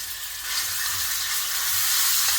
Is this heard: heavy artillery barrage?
no